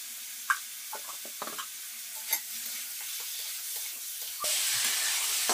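Meat fries in a pan seasoned with chili powder, a soft sizzle under a few sharp clinks and scrapes of a spoon stirring, and the hiss swells louder near the end; no voices.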